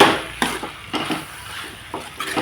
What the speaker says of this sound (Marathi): कांदा शिमला मिर्च आणि पनीर तिघं एकत्र टाकून घेते मी त्यांना मिक्स करून घेते